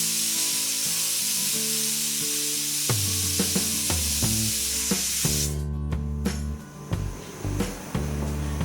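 Pressure cooker whistle while green moong dal khichdi cooks on a medium flame: a loud, steady steam hiss that cuts off abruptly partway, with a low humming tone and clattering noises underneath.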